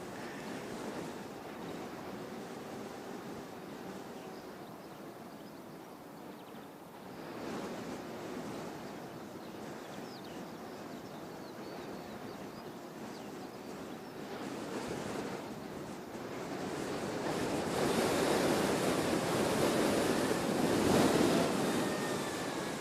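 Strong gusting wind buffets the microphone at Christchurch Airport, a continuous broadband roar that swells louder and rougher toward the end with no voices.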